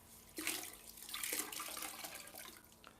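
Water pours and splashes into a bucket during a tiling job on a niche with metal edging, a close, steady rushing stream that starts abruptly and continues with uneven splashing.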